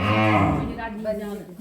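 A cow at a farm gives a loud, close moo that trails off into softer lowing, with a small calf kept nearby.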